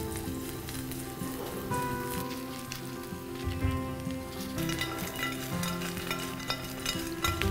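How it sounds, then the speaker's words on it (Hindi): Paneer fries crisply in a pan, giving a busy, crackling sizzle broken by clattering stirs and tosses of the pieces, with no talk over it. "आ रही आवाज़ एकदम कड़ाके वाली, ऐसा लग रहा है ना पत्थर खड़खड़ा रहे हैं"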